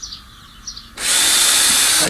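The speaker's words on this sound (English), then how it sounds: "I drill a series of holes." A power drill bores holes into a plastic Rubbermaid trash barrel being turned into a composter, starting abruptly after a second of quiet and whining loudly and steadily up close through the rest of the clip.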